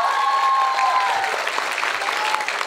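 Crowd at an Islamic religious gathering claps for the religious students, a brief, steady burst of applause with a faint whistle-like tone early on.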